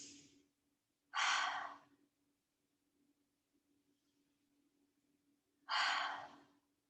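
Two deep cleansing breaths during a yoga session, each a loud, breathy exhale lasting under a second, separated by a long quiet gap with a faint low hum beneath.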